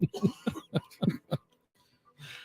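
Someone clears their throat in a series of short, rough, voiced bursts in quick succession, close up, then trails into near silence before a faint breathy rustle.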